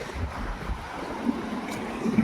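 Monsoon sea at Harihareshwar rolls in as a broad, continuous wash of surf heard from the shore, mixed with gusty wind buffeting the microphone, with no voices.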